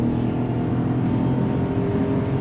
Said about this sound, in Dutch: Zie jij wel een grommetje? V12, ja, lekker.